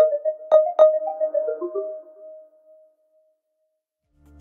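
Microsoft Teams call ringtone previews: a clear electronic chime melody with a few bright plucked notes that rings out and decays into silence, followed by the faint start of another tone at the end.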